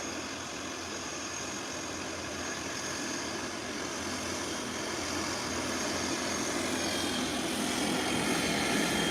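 An Embraer 120 Brasilia turboprop airliner gives off a steady, fairly distant propeller engine drone that swells slightly toward the end, heard on its own with broadband airport noise.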